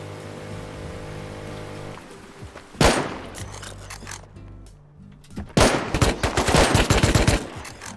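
Rain falls in the survival game Rust, with loud bursts of gunfire breaking out around the middle and then rapid, dense firing near the end over a steady hiss of rain.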